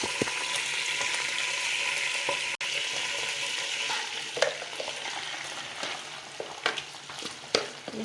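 Masala paste frying in hot oil for chicken korma, a steady close sizzle with scattered scrapes and clinks of stirring, no talk.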